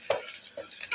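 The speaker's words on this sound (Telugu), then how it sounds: "ఇప్పుడు మంచి గోల్డెన్ బ్రౌన్ కలర్లో వచ్చేంత వరకు బాగా ఫ్రై చేసుకోవాలి" Onions sizzle in a pan for keema masala curry with turmeric added, a soft steady frying hiss broken by a couple of brief stirring scrapes, close and fairly quiet.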